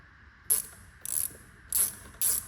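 A ratchet tightens the two 7mm bolts on the mass air flow sensor of a Holden Commodore, giving four short, crisp clicking bursts spaced about half a second apart, close up and with no voices.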